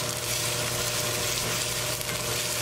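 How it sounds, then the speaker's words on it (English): Onion with ginger, garlic and green chili fries in a pan for lamb curry, a dense, even sizzle that stays loud and close throughout with no talking. "I'll add ginger, garlic, and green chili. Mix it well."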